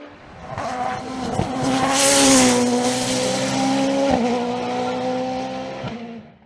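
A Nova Proto NP01 Turbo race car climbs the Col Saint-Pierre hill climb in 2022, its engine note rising and holding loud and close, with tire squeal and brief sharp clunks as it passes.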